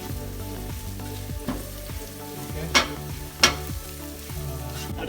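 Crushed ginger and garlic sizzle in hot oil with pieces of kangaroo meat for an Indian-style fry, a steady close crackle broken by stirring scrapes and two sharper clatters, with faint music running underneath.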